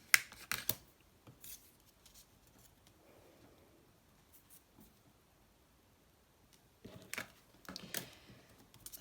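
Scissors snipping paper during tag-pocket and journal-card crafting, a few crisp cuts at the start, then near-silence, then a quick cluster of closer snips near the end, no talking.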